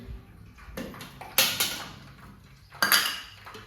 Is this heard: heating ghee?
yes